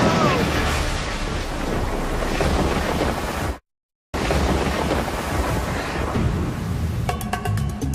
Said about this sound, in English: could this be Earth's most powerful lightning?